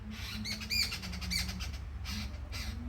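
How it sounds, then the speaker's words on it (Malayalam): Harsh, chattering jungle babbler calls repeat in quick bursts, loud and close, with squawky notes over a steady low background hum. "കരിയിലക്കിളി"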